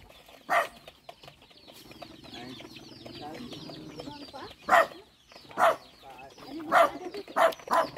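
Chickens cluck and squawk in sharp bursts outdoors on a farm in Tanza, Cavite, with a dog barking and people talking in the background.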